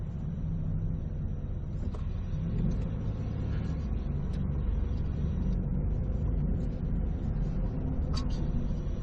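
Continuous road traffic rumbles past, a steady low engine drone with occasional light clicks and ticks on top, heard from inside a moving vehicle.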